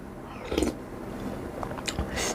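Close chewing and biting while eating curry with chili fish-paste dip and krachiao flowers, a few soft crunchy bites and wet mastication sounds with no talk.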